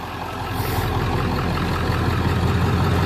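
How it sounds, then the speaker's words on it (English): A Ford F350 truck engine runs steadily at idle nearby, a continuous low rumble with even loudness throughout and no voices. "That's not your truck running"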